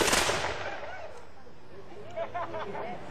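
A reenactor company fires a musket volley, a sharp burst at the start that fades into a long echoing rumble, followed by distant chatter and voices in the background.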